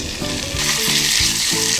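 Steady, loud sizzling of pork frying in a hot pan, a continuous crackling hiss with occasional clinks of stirring.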